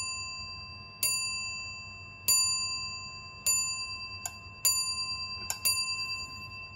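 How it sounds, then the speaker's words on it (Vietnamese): An antique brass clock decorated with lion motifs strikes its chime in slow, ringing bell-like strokes, six or seven resonant clangs spaced about a second apart, each decaying into a sustained tone, close and clear in a quiet room. "Âm thanh thì vang như chuông nhà thờ thôi."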